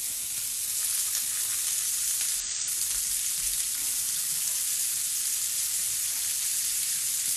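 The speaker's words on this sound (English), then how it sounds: "And I'm also gonna put in my pan right alongside some of my onions and peppers." Vegan burger patties frying in a pan alongside onions and peppers, a constant dense hissing sizzle holding steady and loud throughout, close up with no voices.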